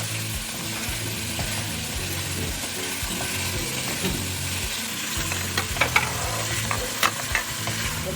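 Vegetables sautéing in a pan for Valencian soupy rice (arròs caldós), a steady close sizzle with stirring scrapes and a few sharper utensil clinks toward the end, no talking.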